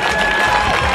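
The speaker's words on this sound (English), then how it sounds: "Give these fighters a round of applause." Crowd applauding and cheering at a Hawaii MMA event after a bout, a brief loud burst of clapping and shouts filling the arena, with a faint tonal hum beneath.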